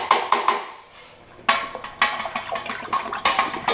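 Honey is stirred into water in a container for mead, giving a series of sharp clinking and sloshing strokes, close and fairly loud, with a quiet gap near the start.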